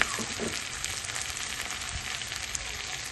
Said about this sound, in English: So I've sauteed them until they go nice and soft.